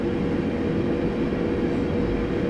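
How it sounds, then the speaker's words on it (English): A 12-car Thameslink train in Train Simulator 2018 gives off a steady, close rumble of running gear and motor drone that holds at an even loudness without a break. "it must be a 12-car Thameslink train"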